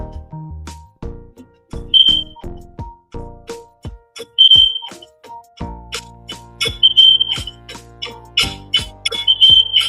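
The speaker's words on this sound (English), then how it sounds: "That fire alarm is killing me" Smoke alarm indoors giving short, high electronic beeps at intervals among clattering, tonal household and keyboard-like noises, fairly close and clear with no talking.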